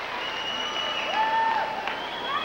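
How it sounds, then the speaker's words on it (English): A very large crowd at the 1988 Canadian Gymnastics Championships in Copps Coliseum, Hamilton, cheers and applauds steadily, a broad roaring wash that swells slightly midway, with a faint whistle-like tone rising above it. "a big cheer went up from this very large crowd at Copps Coliseum in Hamilton"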